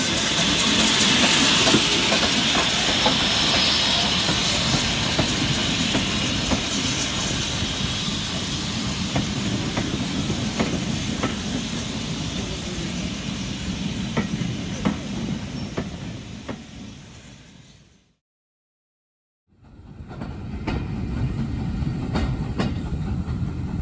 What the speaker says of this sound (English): It wasn't long before the train arrived into Rothley for another brief stop